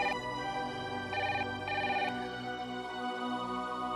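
An electronic telephone ringtone trills through a domestic drama scene, with repeated tonal bursts playing steadily and fairly loud with no one speaking.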